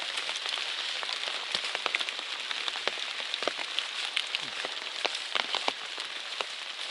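Rain falls on a wilderness trail along the Appalachian Trail, a bright continuous patter with many sharp drops striking close by on gear or leaves, steady and fairly loud throughout.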